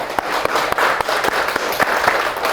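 Audience clapping in a meditation session, a short burst of scattered applause with distinct individual claps, moderately loud and without talk.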